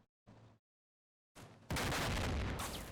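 Heavy automatic fire from a tank's 25mm cannon and 7.62mm machine gun in the Combat Mission: Cold War game, starting as a brief burst, then after a gap breaking into a loud, sustained, dense roar of gunfire close by.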